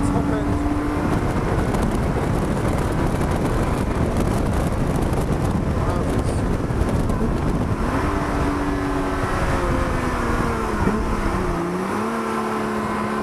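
A Lotus 3-Eleven engine drones loud and close on a track and rises through the gears. Heavy wind buffeting runs underneath, and the pitch steps up and dips in the closing seconds.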